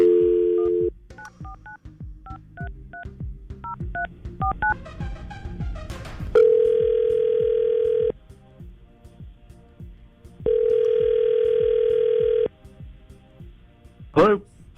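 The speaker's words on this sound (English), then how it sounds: "let's try to call Daniel right now, see if we can get him on the phone." A touch-tone phone dials out with a quick run of keypad beeps, then two long, loud ringback tones sound while the call connects, separated by a short quiet gap.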